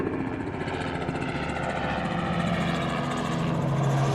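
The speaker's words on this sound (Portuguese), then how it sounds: "Passando um avião aqui agora, ó." An airplane passing overhead produces a steady, rumbling engine drone that holds at fairly even loudness throughout, heard alone without talk.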